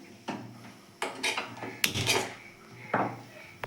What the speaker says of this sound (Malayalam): ഇനി നമുക്ക് അടുപ്പത്ത് പാൻ വെച്ച് കത്തിക്കാം.